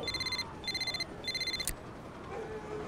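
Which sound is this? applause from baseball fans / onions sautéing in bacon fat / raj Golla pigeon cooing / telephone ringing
telephone ringing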